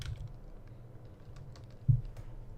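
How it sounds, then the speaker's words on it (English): Computer keyboard clicking softly as code is typed, a quick irregular run of keystrokes close by and quiet, with one slightly heavier tap near the end. "I'll go ahead and type this out."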